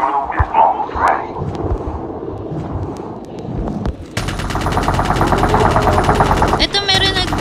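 Rapid automatic gunfire rattles in loud, continuous bursts during an underwater shooter match as a player fires at a swimming enemy, following a stretch of voices and game sounds.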